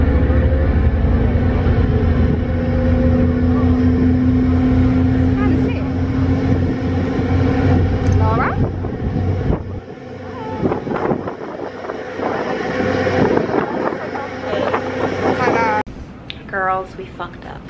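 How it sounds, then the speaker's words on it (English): A ferry crossing the river in New York gives a steady engine drone and tonal hum with wind rushing across the microphone, while people talk over it throughout. "We are going on a ferry"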